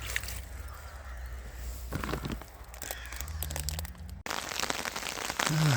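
Rain falls during crucian carp float fishing on a rainy day and patters steadily around an angler sitting under an umbrella. A crow caws, there is some handling noise near the end, and no one speaks.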